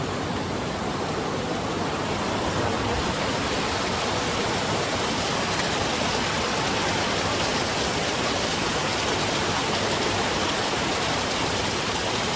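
Heavy rain from a super typhoon roars in a dense, unbroken wash of noise, loud and constant throughout, with strong wind adding to the rushing sound.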